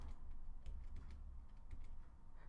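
Close, quiet keystrokes on a computer keyboard, a few irregular taps over a low steady hum.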